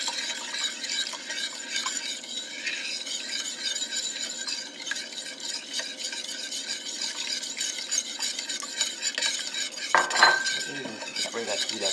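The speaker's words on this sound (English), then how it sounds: "I'm stirring it, make sure I really work that tapioca starch into there." A utensil stirs tapioca starch into black bean clam sauce in a pan, a continuous clinking and scraping with a soft sizzle underneath and one louder scrape near the end.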